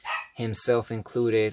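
Dogs barking in a quick series of sharp, close barks and yips, loud and clear with a brief whimper, while a voice talks over part of it.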